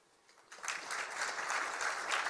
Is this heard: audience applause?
yes